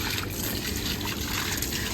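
Water trickles and splashes steadily onto potted plants such as tulsi and roses during watering, close and continuous, with no voices.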